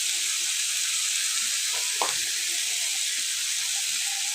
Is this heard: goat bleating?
no